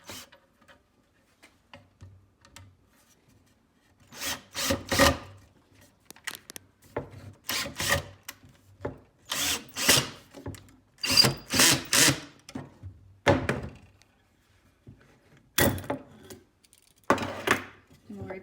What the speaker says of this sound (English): if you start screwing and then back it out a little bit, and then go in again, this will help prevent the wood from splitting